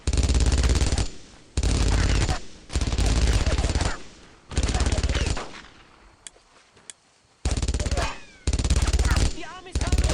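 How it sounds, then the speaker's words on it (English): A German MG42 machine gun in the Brothers in Arms: Road to Hill 30 shooter lets off several loud, sustained bursts close by, separated by short pauses, with quieter scattered battlefield noise in between. "McCreary, fire that MG."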